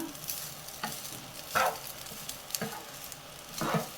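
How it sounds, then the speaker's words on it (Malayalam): Butter garlic paneer fried rice with crushed pepper is stirred in a frying pan, with four or five distinct scraping strokes over a low, steady sizzle, close by and with no voices. "ഇളക്കി മിക്സ് ചെയ്ത് കൊടുക്കാം."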